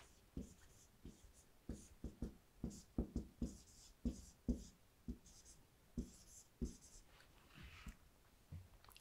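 A teacher writes by hand on paper while working through a Korean middle-school math textbook problem, giving a run of close, distinct pen-scratch strokes in an irregular rhythm, with no talk over it.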